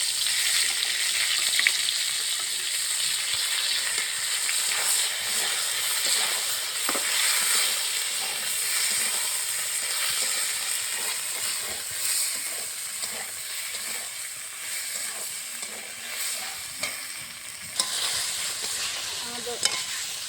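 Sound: ginger and chili paste masala sautéing in oil

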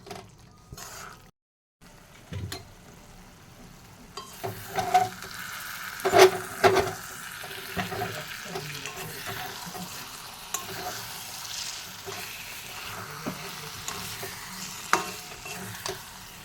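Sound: dried fish frying and being stirred in a pan

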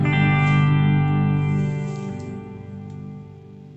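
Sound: guitar reverb effect on a HeadRush unit, delay off

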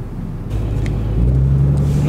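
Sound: 2018 Cummins 6.7 diesel truck revving, spinning tires

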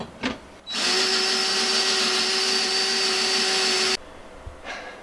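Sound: power drill widening a hole with a bigger bit

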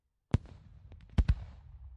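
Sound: city fireworks exploding, sound effect in an audio roleplay

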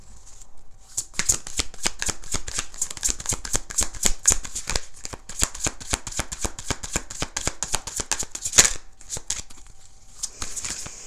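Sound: tarot card deck being shuffled

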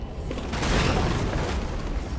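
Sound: explosion in the video game Far Cry: New Dawn

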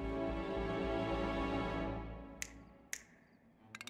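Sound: finger snapping

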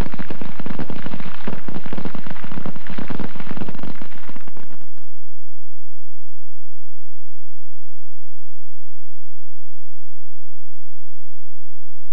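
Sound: weapons firing at moving targets

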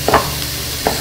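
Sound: sauteing in a pan

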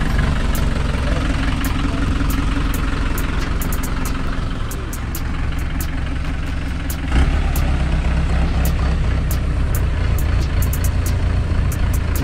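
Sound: motorcycle engine idling

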